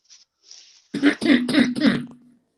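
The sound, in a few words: cough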